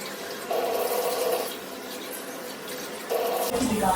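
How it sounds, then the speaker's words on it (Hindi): Tap water runs while soaked dal lentils are rinsed, a soft steady splash with two louder bursts of flow, then a brief change in tone at the end. "3 टाइम पहले मैं पानी से धोती हूँ"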